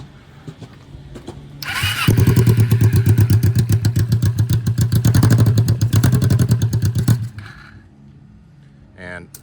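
Race lawn mower engine cranks, catches and settles into a loud, fast, choppy idle for several seconds, then sputters out as it runs dry; a voice speaks briefly before and after.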